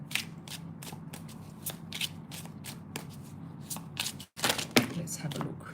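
Oracle cards are shuffled for a reading in quick, close, rhythmic riffles and flicks that go on steadily, with a brief pause before the shuffling resumes, and a voice talks faintly at times.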